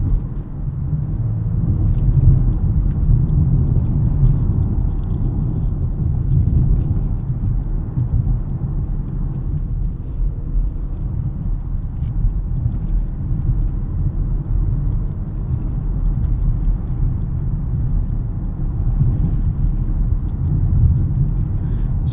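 Steady low road rumble inside a 2018 Lexus LS 500 F Sport rear-wheel-drive sedan, a continuous, even hum of tires and engine with no talk.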